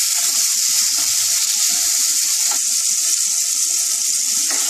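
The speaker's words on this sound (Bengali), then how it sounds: "গ্যাসটা কমিয়ে অল্প করে ভাজবো" Fish pieces fry in oil over low gas heat. A steady, loud hiss of sizzling oil continues throughout, with occasional faint pops and no talking.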